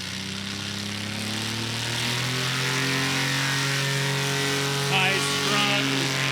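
Propeller engine of a STOL aircraft at a STOL competition, a steady droning hum with strong harmonic tones that swells slightly as the plane accelerates, sustained throughout and fairly close.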